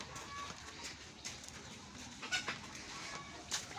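Chickens near a coop give a few faint, scattered clucks over a quiet background.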